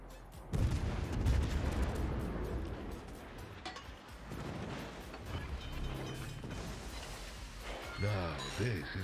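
Salvos from the Tier IX American cruiser USS Buffalo boom in a ranked World of Warships match. Heavy thudding gun blasts and mechanical clatter come in uneven bursts while someone talks over the game audio.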